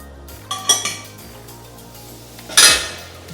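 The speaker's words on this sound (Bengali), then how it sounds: "এবারে একটু নাড়াচাড়া করে চালতাটাকে এর মধ্যে ছেড়ে দেব চালতাটাকে আমি ছেড়ে দিচ্ছি" Elephant apple pieces tipped into a metal pan for pickle and stirred, with sharp clinks and scrapes of a spoon against the pan in two short bursts over quiet background hum.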